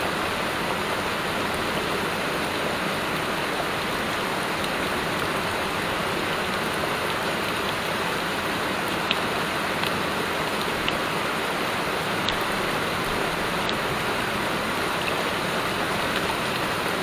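Heavy storm water pours and spills steadily down from a bridge, a dense, continuous roaring wash like rain and a waterfall, loud and close, with no pauses for the whole stretch.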